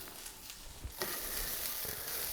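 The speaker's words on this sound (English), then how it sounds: "So we're going to let this sizzle for a few minutes and come back to it." Food sizzles quietly in a pan while making chicken pot pie, a soft steady frying hiss with a few faint clinks, growing slightly louder after the first second.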